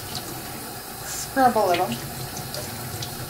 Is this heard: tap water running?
yes